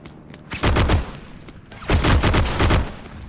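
Gunfire from an enemy shooting down from a rooftop in the Heroes & Generals shooter game, two loud close bursts of rapid shots separated by a short pause.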